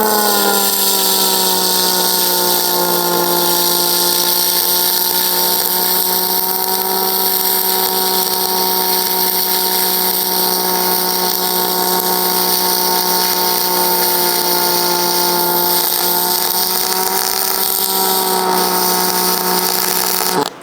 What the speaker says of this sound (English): Now we're gonna weld this, same settings, same wire speed, and see if pulse does any better.